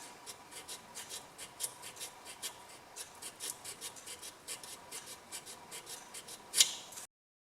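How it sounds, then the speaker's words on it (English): Ignition points on a two-stroke Simson BM40-2 lawn mower are scraped with quick, repeated rasping strokes. The sound is faint and close, in an uneven rhythm, with a sharper scrape near the end before it stops. "So I'm just cleaning the points."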